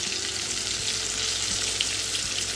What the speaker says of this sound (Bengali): গোটা গোটা পটল ভাজা করব